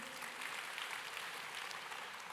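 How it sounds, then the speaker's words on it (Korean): Applause from an audience at a one-day marketing seminar, a steady, dense wash of many hands clapping throughout, fairly quiet and distant, with no talk over it. "이 대목에서 박수 한번 칠까요?"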